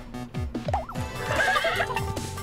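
A horse in the video game Miitopia whinnies loudly with a rising and falling neigh, layered over steady rhythmic clip-clop hoofbeats and a droning background tune.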